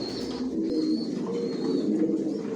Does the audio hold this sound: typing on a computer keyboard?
no